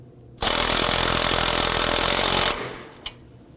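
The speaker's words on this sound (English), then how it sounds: "Using a 19 millimeter socket, you want to go ahead and snug this down" A power tool runs the 19 mm socket onto the front CV axle nut of a 2005-2009 Subaru Legacy 2.5L H4, a loud, steady, close whirring burst lasting about two seconds, followed by quieter handling noises and a single knock.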